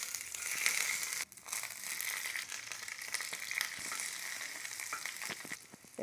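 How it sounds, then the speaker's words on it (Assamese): Garlic sizzling in hot oil for a paneer and spinach dish, a steady crackling hiss with small pops and crinkly bursts throughout, close and fairly loud with no talking. "তেলখিনি গৰম হ'ল, নহৰু দি দিলোঁ।"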